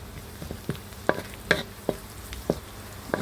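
Pork-filled wontons frying in oil, a low bubbling sizzle punctuated by repeated sharp spattering pops roughly every half second, close by with no talking.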